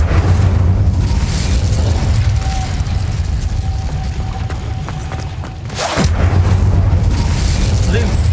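Incendio fire spell cast in Hogwarts Legacy, a dense burst of booming flame layered over continuous loud game ambience, with a brief drop near the end before the roar swells back.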